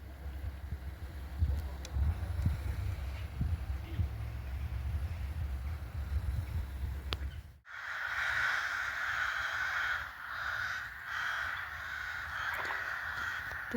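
Several crows caw near a campsite, loud and repeated over steady outdoor background noise, with the scene shifting partway through to a brighter, hissing ambience.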